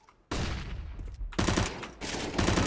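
AK rifle fire in a video game: loud, dense automatic bursts in three sustained volleys separated by brief gaps.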